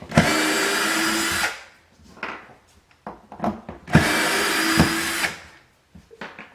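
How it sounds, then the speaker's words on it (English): A power drill backs screws out of a wooden crate holding a sculpture, two long loud whirring runs, each about a second and a half, separated by clattering, knocking handling sounds. "So we're going to pull all these screws."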